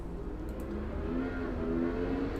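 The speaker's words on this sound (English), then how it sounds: "Get a little bit of a loud car outside." A car engine rumbles and revs steadily outside, a low droning roar that rises slightly in the middle, with no voices.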